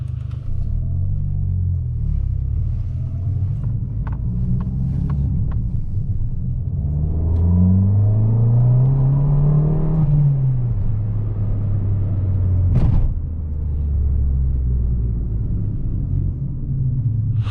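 Stock Abarth 500 with a 1.4-litre four-cylinder engine cruising on a German Autobahn, a loud steady cabin drone and rumble that rises in pitch as it accelerates, then settles back, heard from inside with no talk.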